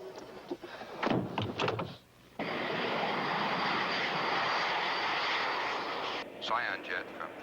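A jet aircraft holding at altitude gives a steady, broad engine roar that starts abruptly after a brief thump and continues at even loudness, with voices speaking briefly before it and faint voices near the end.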